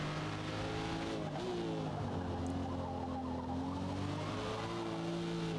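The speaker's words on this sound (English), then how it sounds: "so 50 miles an hour around this bend, and the car's real struggling" A race car in Forza Motorsport strains through a bend at about 50 miles an hour, its engine droning steadily with shifting pitch and a faint tire squeal, loud and continuous throughout.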